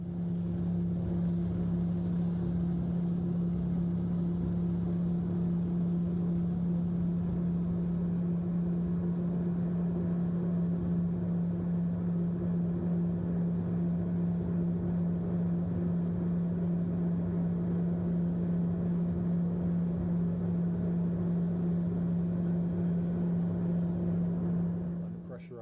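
Unpressurized small aircraft in flight to and from Lukla in Nepal, heard from inside as a steady, loud engine and propeller drone with a strong constant hum that holds unbroken for the whole stretch before easing off at the end.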